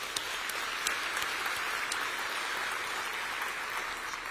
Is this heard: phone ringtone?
no